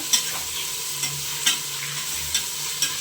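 Tomato with turmeric frying in a pan for chicken biryani, a continuous sizzle broken by about five sharp scrapes of a spoon stirring at a regular pace, close and clear with no talk.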